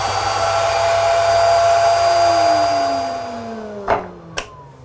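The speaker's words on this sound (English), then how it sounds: "And then we will just turn this vacuum cleaner on." A small vinyl record-cleaning vacuum motor hums with a steady whine, then winds down in pitch and fades, followed by two sharp clicks near the end.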